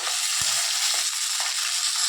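Fish heads frying in hot oil give a steady, close, loud sizzling hiss with a couple of soft low bumps from the pan.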